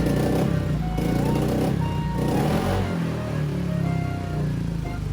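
Motorcycle engine revving, slightly backfiring and slow to respond to the throttle, a loud continuous close-up drone with uneven surges and faint pops.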